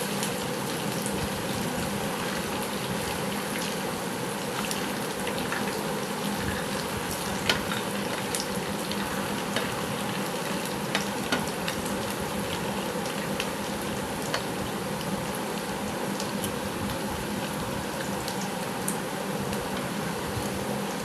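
Potato and coconut dhoka pieces dusted with semolina fry in a pan with a steady, even sizzle and occasional faint crackles, with no voices.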